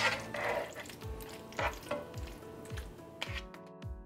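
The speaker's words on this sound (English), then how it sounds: "we want to give this a nice mix and coat the beans with the sauce" Green beans being stirred and tossed with sauce in a pan, a soft wet sizzle under repeated low scraping strokes of a utensil against the pan, close up with no talking.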